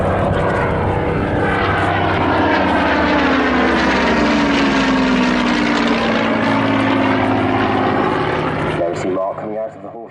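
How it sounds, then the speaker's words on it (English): A Douglas C-47A Dakota, built in 1943, drones past at an air show with a loud, sustained piston-propeller roar that swells and shifts pitch as it passes, while a commentator talks over it throughout. "This Dakota was constructed as a C-47A by Douglas at Long Beach, California, USA in 1943."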